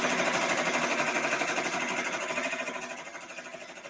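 A multi-needle embroidery machine stitches a hat, making a dense, steady mechanical whir with rapid rhythmic needle pulses. It stays loud and close, then fades slightly toward the end.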